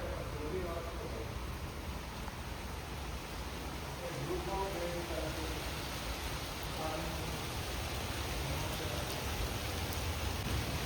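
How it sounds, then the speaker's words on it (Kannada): Steady heavy rain falls continuously at a constant, fairly soft level, a dense even hiss heard from indoors at home with no pauses or talk. "ಜೋರು ಮಳೆ ಬರ್ತದೆ"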